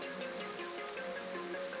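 Rain falling in the DayZ video game, a short, steady patter of raindrops with a constant hiss and a faint tonal hum beneath, alone without voices.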